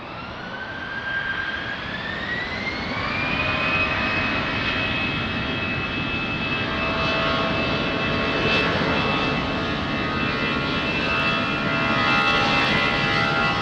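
A jet airliner takes off from runway 20 at Lisbon Airport: a loud, steady engine roar with a rising whine in the first few seconds that then holds level, and no voices.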